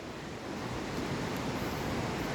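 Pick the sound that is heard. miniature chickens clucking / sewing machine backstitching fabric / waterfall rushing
waterfall rushing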